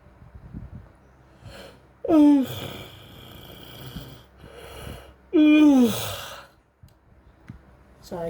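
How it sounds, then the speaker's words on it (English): A person yawns twice in a row, each a loud, drawn-out breathy vocal sweep with a falling pitch, separated by quieter breathing and background murmur. "Sorry, I can't stop yawning for some reason."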